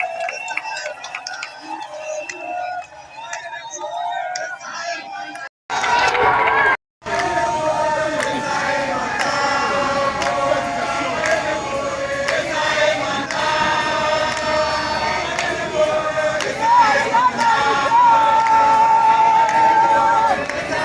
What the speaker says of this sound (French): Applaudissons très très fort pour son excellence et c'est le vice-président